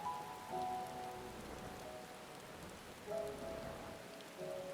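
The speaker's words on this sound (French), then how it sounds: "Et encore une fois, il pleut." Rain falls in the video game Final Fantasy XIV, a soft, steady patter layered with faint tonal music, quiet and continuous throughout.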